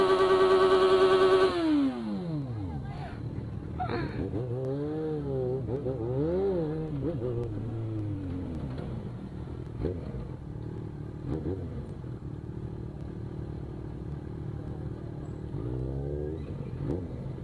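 A motorcycle engine revs up and then rides off, a loud climbing whine at the start that drops away into rising and falling throttle sweeps, then settles into a quieter steady rumble with further bursts near the end.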